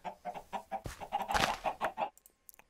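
Clucking chickens from the game Minecraft, several quick clucks in a steady choppy rhythm, close and clear, breaking off into near silence near the end.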